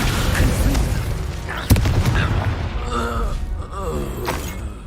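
The Incendio fire spell goes off in the Hogwarts Legacy video game, a loud sustained roaring burst with a sharp thump partway through, and game sounds swell and fade over the dense rumble.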